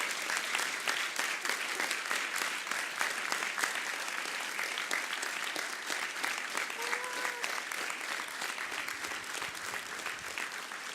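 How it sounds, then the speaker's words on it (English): An audience at a talk event applauds and cheers in steady, dense clapping that fills the room continuously, with voices faintly mixed in. "There's going to be a lot of cheering."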